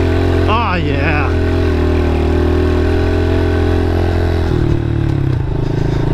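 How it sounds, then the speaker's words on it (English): A 2015 Honda CRF 110 dirt bike engine labors up a hill with a steady low drone and brief revving, loud and close, with a rider speaking over it. "I really love the low end that this bike gives you."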